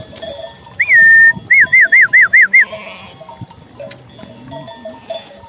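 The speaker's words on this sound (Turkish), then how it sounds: "Koyunlar sıcakta harbi susamış." A flock of sheep drinks water in the summer heat at a highland pasture. One drawn-out bleat is followed by a quick run of five or six loud, close bleats, then quieter farmyard sounds.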